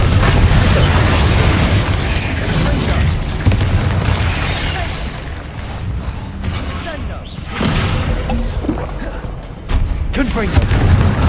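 Repeated Confringo blasting spells explode in the video game Hogwarts Legacy, heavy, loud booms and rumbling bursts rolling over one another amid battle noise, with spoken voices mixed in.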